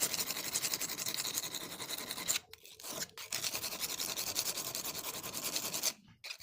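Leather knife blade being sharpened by hand in steady, rhythmic scraping strokes, fairly close and continuous, with two brief pauses partway through and a short break near the end.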